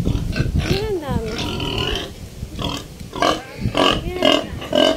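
Hungry pigs on a rural farm in Calatagan, Batangas let out loud, close grunts and squealing oinks in irregular bursts, with people talking nearby.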